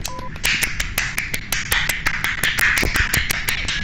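Quick, sharp snaps repeat in a steady, fast rhythm, sounding more like finger snapping or light tapping than full clapping, close and fairly loud over a faint background.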